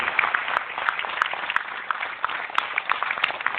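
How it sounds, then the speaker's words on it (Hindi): A seated audience at a meeting claps enthusiastically for colleagues being recognized, a steady burst of many hands with distinct sharp claps, sounding somewhat thin and band-limited. "इनके लिए भी साथियों जबरदस्त तालियां।"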